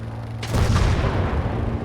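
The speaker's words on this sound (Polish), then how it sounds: "Albo tutaj coś wybuchło" A sudden heavy boom from a Gates of Hell battle, an explosion in a Finland versus USSR match after an aircraft strike, opens into a loud, rumbling roar that holds steady for over a second, with a low engine-like drone beneath.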